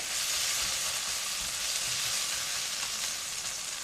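Masala for ghughni fries in a pan with a steady, dense sizzle that stays loud and even throughout, with no talking over it.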